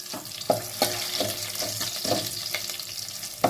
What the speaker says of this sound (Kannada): ಆ ಥರ ಚೆನ್ನಾಗಿ ಫ್ರೈ ಮಾಡ್ಕೊಳ್ಳಿ